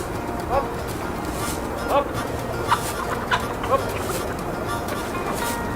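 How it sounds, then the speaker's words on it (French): Swiss German hens cluck in short, scattered bursts over a busy outdoor background with faint voices, several separate calls spread across a few seconds. "c'est des poules suisses allemandes"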